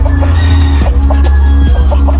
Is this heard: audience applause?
no